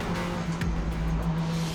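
A race car climbing the bumpy Mt Washington hillclimb road, its engine a steady loud drone from inside the cabin with a brief dip and recovery partway through, no talking.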